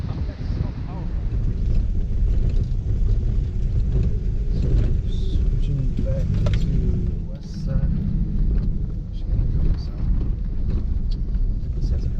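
A vehicle driving over a rough dirt trail near Peacock Flats on Oahu, Hawaii, giving a steady loud low rumble with wind buffeting and occasional knocks and rattles.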